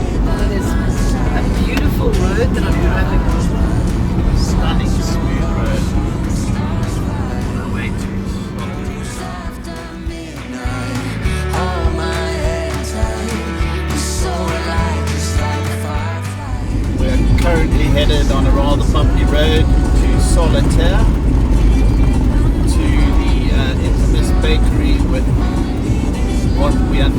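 A Toyota Troopy cruises along a smooth road in Namibia with a steady, close engine drone and road rumble that dips briefly midway, while people talk throughout.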